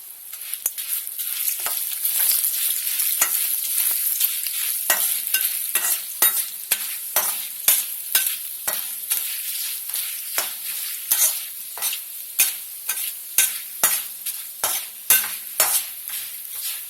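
Rice rava seasoned with pepper and cumin powder is stirred in a pan, with a steady dry sizzle and repeated scraping strokes of the spoon in a quick, uneven rhythm, close and fairly loud throughout.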